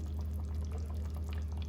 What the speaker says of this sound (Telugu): కొంచెం వాటర్ వేద్దామండి.